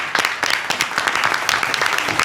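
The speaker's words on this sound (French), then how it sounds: "On va d'abord faire un tonnerre d'applaudissements à l'entrepreneuse qu'on a sélectionnée, qui est Anissa" Studio audience applause for entrepreneur Anissa on a French comedy show, a dense burst of clapping that stays loud and fairly even throughout.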